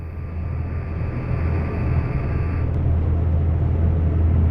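Ship engine in the video game Seafarer the Ship Sim, a steady low droning rumble running throughout at even loudness, with a faint high electronic tone above it and no talk.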